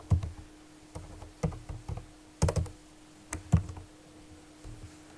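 Typing on a computer keyboard while entering a search for Zoom meetings on Fiverr: scattered bursts of close, crisp key clicks with short pauses between words, no talking over them.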